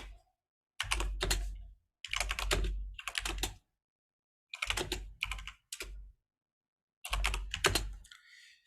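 Bursts of quick keystrokes on a computer keyboard, several separate runs of typing broken by short pauses, close and clear with no talking.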